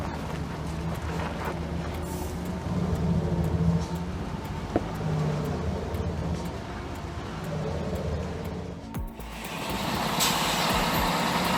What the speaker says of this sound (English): The MB Track 1000 is tackling a sharp turn with a heavy load and limited turning radius.